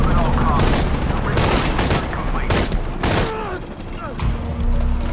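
Gun firing in short bursts in Shadow of the Tomb Raider, several sharp loud shots and clustered volleys over a busy game background, close and punchy, with a voice talking in between.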